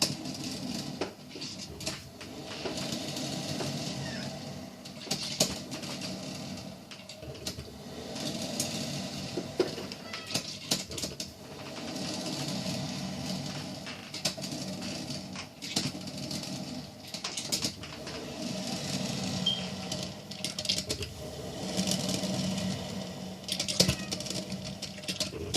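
Hamilton Beach stainless steel electric percolator brewing coffee about three feet away, a continuous bubbling and gurgling patter with irregular spurts and clicks, steady at moderate level, with no talk.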